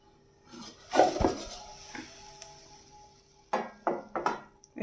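An oats omelette is flipped in a pan, giving a few soft scrapes and knocks of spatula on metal, then a quick run of three or four clattering taps near the end, with quiet gaps between.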